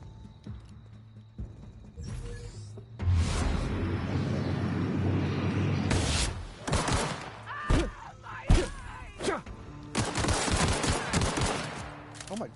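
Gunfire from The Outer Worlds video game: repeated bursts of shots and heavy impacts, loud and close, interspersed with thuds and groans in uneven clusters.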